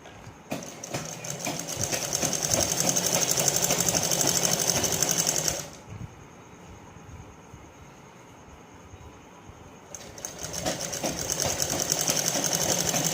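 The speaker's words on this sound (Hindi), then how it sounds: "दोनों को बीच में लेकर के इस तरह से सिलाई कर देंगे" An electric sewing machine stitches a blouse belt together with its lining in two long, loud, steady whirring runs separated by a quieter pause of several seconds.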